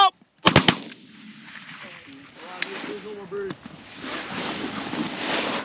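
Shotguns fire during an early-season goose hunt in Minnesota: a tight volley of three or four loud, close blasts near the start, followed by honking calls and wind noise.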